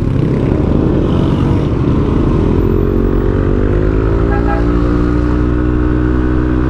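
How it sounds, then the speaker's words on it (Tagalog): A Yamaha NMAX V2 scooter fitted with an RS8 DC8 exhaust pipe rides past loud and close, its engine note droning steadily and then climbing in pitch as it accelerates. "Talagang sigaw na sigaw yung makina"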